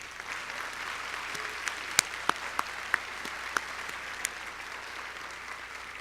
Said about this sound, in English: please join me in a special round of applause to thank our founding dean, Kathy Gallo.